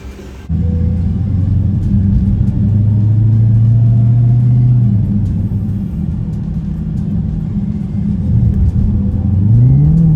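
A Dodge Hellcat on a Hot Rod Power Tour road trip accelerates with a loud, steady engine drone, the revs climbing audibly toward the end; no one speaks.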